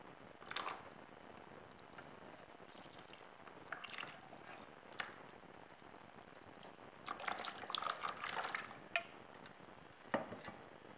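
Water drains through the substrate of a potted orchid after watering, heard as faint, close, irregular trickles and wet squishy splashes in scattered bursts over quiet background.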